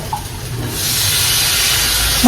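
Green peas hit a hot pan of masala on low flame, setting off a loud, steady hissing sizzle that swells after a moment and holds evenly, with no talk over it.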